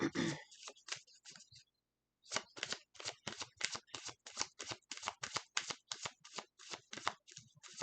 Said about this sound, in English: I wasn't done shuffling.